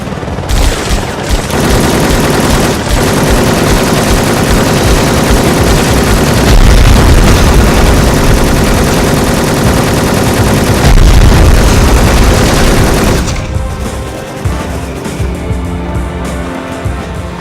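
Helicopter attacking with sustained machine gun fire in the video game Cold Winter, dense loud continuous bursts and booms over a rotor drone, cutting off near the end into quieter rumble.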